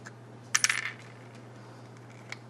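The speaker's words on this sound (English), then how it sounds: "Take the nut and washers off." Small metal washers and a nut come off a battery terminal, giving a brief cluster of bright, close metallic clinks and jingles in a quiet space, then a single faint tick afterward.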